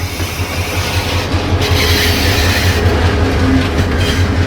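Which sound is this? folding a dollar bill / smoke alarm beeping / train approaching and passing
train approaching and passing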